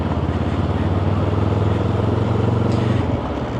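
A Benelli TRK 702 motorcycle pulls away smoothly, its steady low engine drone sustained close by for a few seconds with a faint rise in pitch and a little road noise.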